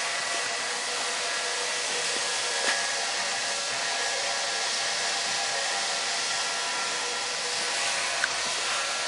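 A Rehoo 500 x 200 mm machine running during a test, a steady broadband whirring drone that holds level throughout with a couple of faint clicks, no talk.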